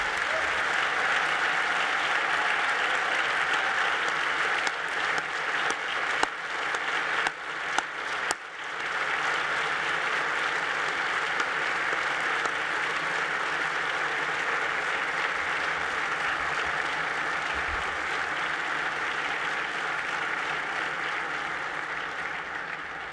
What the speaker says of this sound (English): So would you please join me for a brief moment of applause to honor PJ.